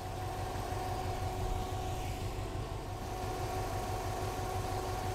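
A classic car engine idles steadily at low speed during a tune-up, a constant rumbling drone with an even low pulse and no talking.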